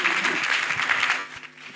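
Audience applause at the ASCOM 2024 ceremony, a steady dense clatter of many hands filling the room, holding even for most of the stretch and thinning slightly near the end.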